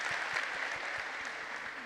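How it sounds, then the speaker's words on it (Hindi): Steady audience applause at a corporate real estate event, a dense continuous wash of many hands clapping at even loudness throughout, with no talk over it. "इनके लिए ताली मारिए सब लोग."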